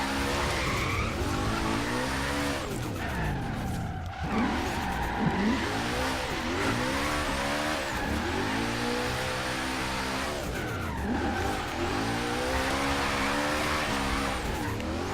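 Car drifting in Forza Horizon 3, with loud sustained tire squeal over a roaring, revving engine, sliding through repeated bursts of wheelspin for a continuous stretch with no talk.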